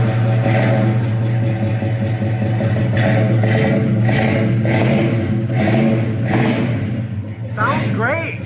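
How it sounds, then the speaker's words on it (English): A 1968 Ford Mustang coupe engine cold-starts and revs loudly up close, a steady mid-range rumble swelling through several throttle blips, with a voice briefly heard near the end. "You're gonna see here, it'll be a complete cold start."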